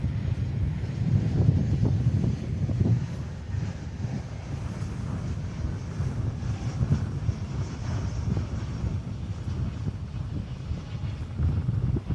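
American Airlines jet in Piedmont heritage livery at DFW Airport, a steady low distant engine roar mixed with wind buffeting on the microphone, continuous with no clear rise or fall.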